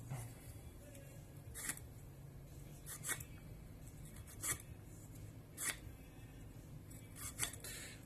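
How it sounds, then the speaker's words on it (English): A broc knife trims the edge of a carved wooden net needle: a series of faint, close, short scraping cuts spaced a second or so apart, with no voices. "And I'm going to trim that edge out."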